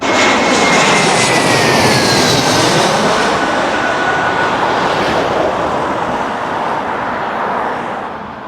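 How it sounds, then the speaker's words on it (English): A fixed-wing airplane roars loudly overhead near a London airport, a broad sustained engine rumble with a descending whine that slowly fades as it passes, with no voices. "There goes the plane. Plane has gone past."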